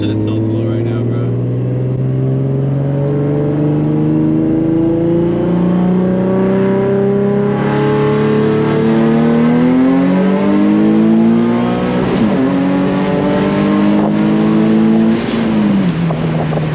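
A Nissan Z car's engine pulls hard in second gear, a loud, close, steadily rising rev that climbs for several seconds, dips briefly at a shift, then rises again, with a person speaking over it.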